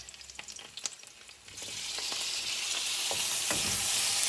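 Sliced peppers drop into a pan of translucent frying onions, and after a few light clatters the pan erupts into a loud, sustained sizzle that stays close and steady to the end.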